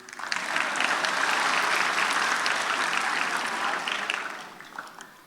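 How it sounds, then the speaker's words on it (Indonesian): A stand-up comedy audience bursts into applause that builds quickly, holds steady for several seconds, then tapers off. "Boleh tepuk tangan kalau mau"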